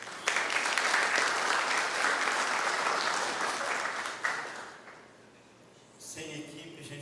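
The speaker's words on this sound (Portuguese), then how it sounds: "Uma salva de palmas para a Carla." Audience applause at an animal integral health seminar, loud and dense for about four seconds, then fading into quiet before a voice resumes speaking.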